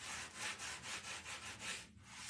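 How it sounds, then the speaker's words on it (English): Old barnwood plank sanded by hand in repeated back-and-forth strokes, a steady rhythmic rasping about eight passes, close and fairly loud, with no talking. "And I'm going to just sand it a little bit more."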